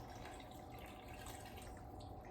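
Vegetable stock pours from a carton through a punched hole, a soft, steady liquid trickle that stays faint and even from start to finish.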